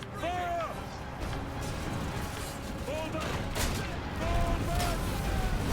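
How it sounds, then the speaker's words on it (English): Catapult fire in Ryse: Son of Rome, heavy booming impacts and crashes rolling over a dense battle din, with shouting voices and clashing noise layered throughout. "Catapult fire!"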